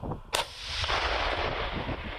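A single heavy artillery blast booms out on the Donbas front, followed by a long rumbling echo that rolls and fades across open ground.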